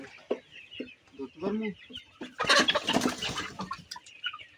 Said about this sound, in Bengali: এগুলো হচ্ছে সোনালী মুরগি, সোনালী হাইব্রিড জাতের একটা মুরগি